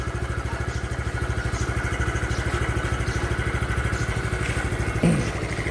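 Keeway 150cc café-racer-style motorcycle engine running steadily up close, a fast even thumping idle throughout with a single louder knock near the end; the bike is reported to run but not pull.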